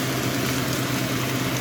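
A steady, droning mechanical hum with a rough, rattling edge from a worn, failing fan running close by, unbroken throughout.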